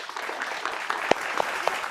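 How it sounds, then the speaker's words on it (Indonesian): An audience applauds Pak Rudolf after a talk on leadership: a soft, steady patter of clapping with a few sharper individual claps standing out, short and moderately quiet. "kita beri tepuk tangan untuk Pak Rudolf"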